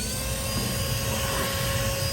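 A handheld car vacuum cleaner runs steadily and close with a continuous whirring motor hum, unbroken and fairly loud, with no talk over it.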